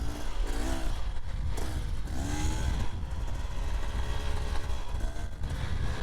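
Beta Xtrainer 300 two-stroke dirt bike ridden off-road, its engine rising and falling through repeated revs and accelerations, close and loud with clatter from the terrain.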